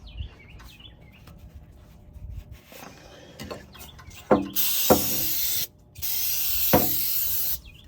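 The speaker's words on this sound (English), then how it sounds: "now to spray some up in here without getting doused myself" Two long bursts of aerosol spray hiss close by into a motorhome's air filter housing, each lasting a second or more, after some quiet handling noises and faint chirps.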